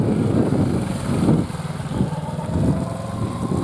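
A motorcycle's engine drones steadily as it swings through a tight U-turn on rear brake and throttle, with small surges of acceleration rising and falling close by.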